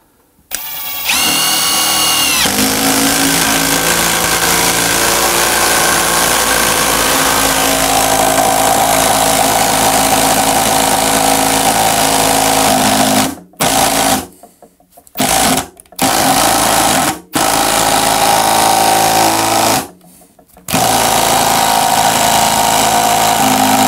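A Bosch impact driver sinks a screw in a long, loud continuous whine broken by several short pauses near the end, then resumes as it struggles against the fastener.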